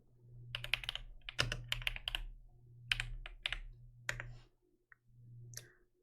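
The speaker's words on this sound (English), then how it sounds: "The typing doesn't sound terrible." Close, quiet clicky keyboard typing in irregular bursts, mixed with sharp mouse clicks, under a low steady hum in a quiet room.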